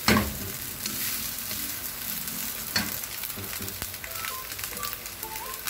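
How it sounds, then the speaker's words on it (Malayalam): Rice with chopped carrots tossed in a hot pan for vegetable fried rice, a continuous loud sizzle with a scraping rush at the start and occasional clatters, close and without talk. "ഇതിലേക്ക് റൈസ് ഇട്ട് കൊടുക്കുകയാണ് ഇതൊന്ന് ടോസ് ചെയ്തെടുക്കും"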